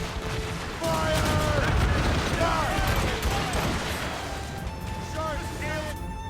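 Ship cannons firing in a naval battle in Assassin's Creed Rogue, a run of heavy booms and crashes that mix with voices shouting over the noise.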